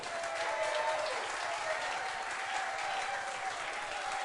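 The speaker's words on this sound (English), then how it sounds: "give me a big round of applause" A large crowd at a live music show at the Exit Inn applauds and cheers continuously, dense clapping filling the room at a steady, fairly distant level.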